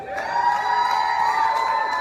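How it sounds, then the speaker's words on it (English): Small club audience at a 2012 live show cheering, whooping and shouting after a song, a steady, fairly loud burst of crowd noise with high voices carrying over it. "Give me a round of applause because I need it on an emotional level."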